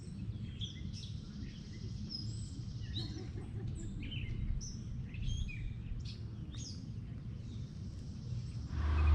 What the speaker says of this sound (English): Birds, water.